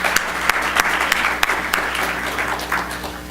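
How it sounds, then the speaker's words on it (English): Applause from an audience at a club event, brief, moderately loud clapping with distinct individual claps standing out over a steady patter. "Let's please give the Centennial Club a round of applause."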